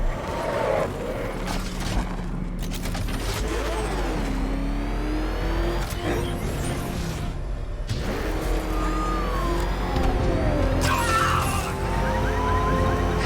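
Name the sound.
car engine revving in Batman Arkham Knight video game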